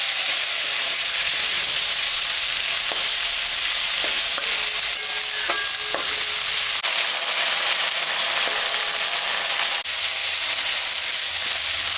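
Sliced potatoes and eggplant fry steadily in hot oil after onions, a continuous close sizzle and hiss with occasional light stirring clinks throughout.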